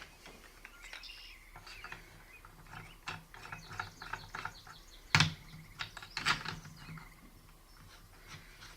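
An IR illuminator mount on a night vision scope is tightened up close, giving a series of small ratcheting clicks and mechanical ticks, with a couple of sharper clacks midway, in a quiet room.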